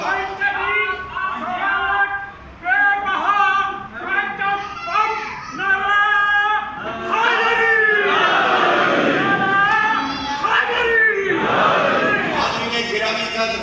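At a religious gathering, a loud crowd shouts Islamic slogans in unison with a lead voice. The rhythmic call-and-response chants rise in repeated waves and swell into a fuller roar in the second half.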